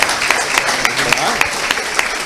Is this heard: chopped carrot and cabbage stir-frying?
no